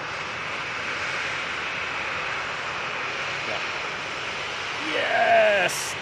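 A KLM airliner at Manchester Airport rumbles as a steady, broad engine roar throughout, with a voice talking over it near the end and a brief swelling of sound.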